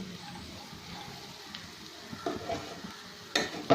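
Gram flour is roasted and stirred in a pan for capsicum curry, with soft scraping and a faint hiss, then a few sharper clinks of a spoon against the pan toward the end.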